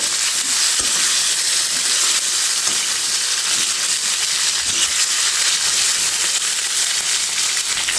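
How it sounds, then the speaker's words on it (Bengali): Large shrimp coated in salt and turmeric frying in hot oil, a loud continuous sizzle with crackling pops throughout, close by and without speech. "এখন আমি তেলের ভিতরে দিয়ে দেবো নেড়ে ছেড়ে সুন্দর করে ভেজে নেব"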